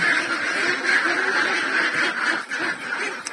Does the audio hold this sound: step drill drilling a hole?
no